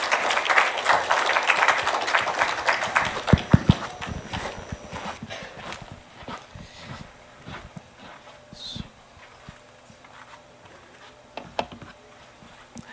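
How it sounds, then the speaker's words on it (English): A round of audience applause for a speaker at a session on digital communications, loud clapping at first that thins out and fades to scattered claps. "big round of applause for him"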